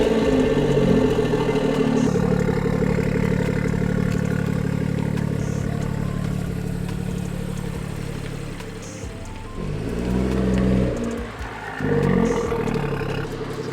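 A BMW F30 with a B58 engine and MST Performance intake drives along, its engine holding a low, steady drone from inside the car that eases off and then swells again with throttle near the end.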